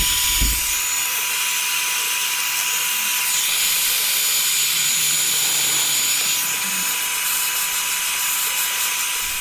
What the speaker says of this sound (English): We're going to work in a small, streak-like motion with the blow dryer